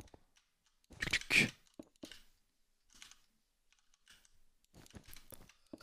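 Computer keyboard typing during a Minecraft session: a short burst of close, crisp key clicks, followed by a few sparse, quieter taps and a soft cluster of keystrokes near the end.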